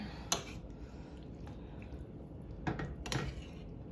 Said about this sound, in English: You stir this together